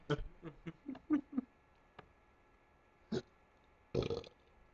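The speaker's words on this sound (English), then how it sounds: "That was a burp" A quiet run of short, croaky burps comes in a quick burst, followed by two more isolated burps after a pause.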